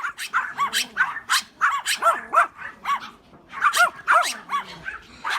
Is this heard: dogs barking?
yes